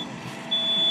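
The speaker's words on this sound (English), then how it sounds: "the fire extinguisher, smoke detector, is already going off." A smoke detector shrills during a room fire demonstration in a university residence hall, giving one steady, piercing tone that swells slightly louder partway through and continues without a break.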